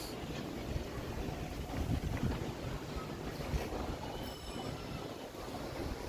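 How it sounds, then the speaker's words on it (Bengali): Steady, strong wind roars and buffets continuously throughout, with low gusty rumbling and no voices. "কি পরিমাণ বাতাস, ভাইঙা চুরা ফলাইতেছে সব বাতাসে।"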